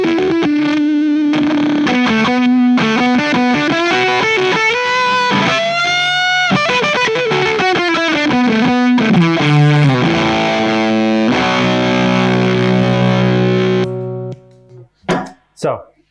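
Loud, distorted guitar through stacked effects pedals squeals into wailing pitched feedback, tones bending and sustaining before cutting out into a few sharp bursts.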